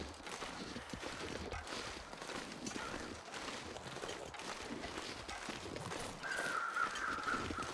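Crows caw faintly in the survival video game The Long Dark, a few harsh calls surfacing late over a steady wash of wind-like background noise.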